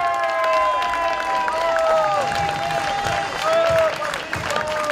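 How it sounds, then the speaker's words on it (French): A crowd applauds volunteers at the French veterans' triple pétanque championship in Mende, sustained clapping and some cheering throughout while an announcer's amplified voice talks over it. "Allez, applaudissements donc pour tous les bénévoles"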